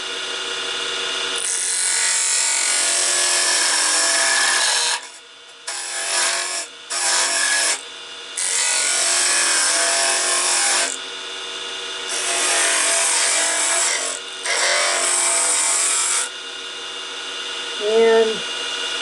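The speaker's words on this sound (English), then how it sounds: "I'm switching now to the spindle gouge." A spindle gouge cuts a banksia pod spinning on a wood lathe, giving long loud scraping, hissing passes broken by short pauses, with the motor's hum beneath and a brief voice near the end.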